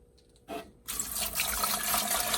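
Water poured into the tank of a Levoit humidifier, starting as a brief splash and then becoming a steady, close rushing gush that fills the rest of the moment.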